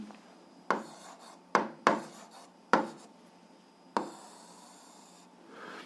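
A pen scratches across paper while algebra is worked out by hand, with several short, sharp strokes in an irregular rhythm, then a longer continuous scribble, close up over a quiet room.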